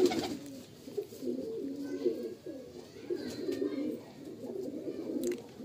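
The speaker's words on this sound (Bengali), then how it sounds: "সাদা চোখের মালবাই নর পায়রা ফুল সিরার মধ্যে" Male white-eyed Malbai pigeons coo continuously in a loft, a dense low throaty chorus of rolling phrases that swells and dips, with faint sounds in the background.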